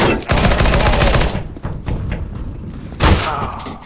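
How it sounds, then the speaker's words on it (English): A grenade explodes in CS:GO on the Inferno map, a loud, close, heavy blast with rumbling low-end that decays over about a second and a half, followed by scattered thuds and a second sharp impact near the end. "Throwing a grenade."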